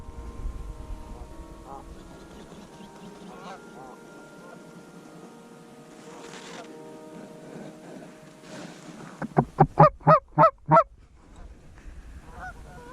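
Geese over a frozen field during a goose hunt: faint distant honks drift through the first part, then a burst of five or six loud, close, rhythmic honks, with low background rumble and some hunters' voices.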